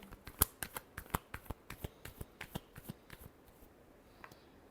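A deck of tarot cards shuffled in a quick series of soft, evenly spaced flicks and taps, close but quiet, thinning out toward the end with no voices.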